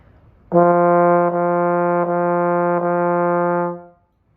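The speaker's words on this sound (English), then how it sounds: "we're going to break this note up into 4 touching legato quarter notes" Solo trombone on concert F, one sustained tone split into four connected legato quarter notes with barely audible breaks between them, close, steady and clear, then a quick fade.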